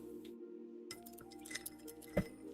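A paintbrush clinks against a small can of water at an acrylic painting session, a few light metallic taps after a brief hush, with one sharper clink near the end.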